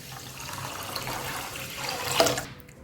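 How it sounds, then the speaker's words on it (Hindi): Water poured into an open pan with 500 grams of sugar to make syrup for sponge rasgulla, a steady close splashing pour building toward a louder burst near the end, then stopping. "उसमें मैं डाल दूंगी 500 ग्राम चीनी, 1 लीटर पानी डाल देंगे हम इसमें।"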